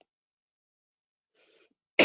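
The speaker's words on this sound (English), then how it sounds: "sorry guys if I'm coughing a little bit" A single short, close cough from a man who is under the weather, following near silence with a faint bit of sound just before it.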